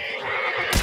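A horse in the video game Hunt: Showdown lets out a single short, close whinny, heard on its own.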